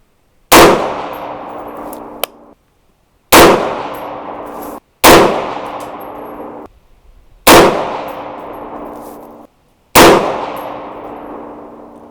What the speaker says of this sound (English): let's go ahead and load up and shoot the next group